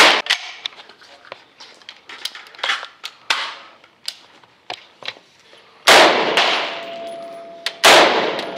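A SCAR-L rifle fitted with a Surefire 60-round magazine fires sharp, loud single shots in an uneven string, most of them spaced apart, with two heavier close reports near the end ringing briefly.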